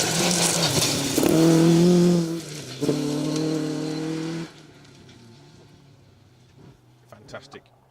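Jeff Phelps drives Dave Jenkins' Ford Escort rally car along a Welsh rally stage. The loud engine roar rises and revs, then fades into the distance under steady commentary.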